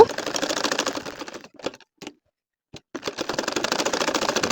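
A domestic sewing machine stitches a nakshi kantha baby quilt design as the fabric is turned under the foot. It runs in a rapid, steady whir, stops with a few short bursts, then resumes close up.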